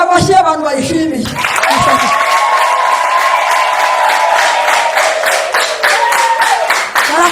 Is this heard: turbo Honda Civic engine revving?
no